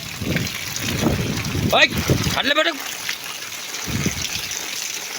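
Water gushes steadily from a broken tap, a constant rushing hiss running beneath people talking nearby.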